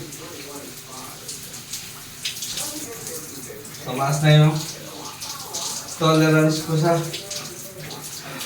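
A cold shower runs with a steady hiss of falling water, growing louder in two splashing bursts as someone steps under the spray; a person talks over it.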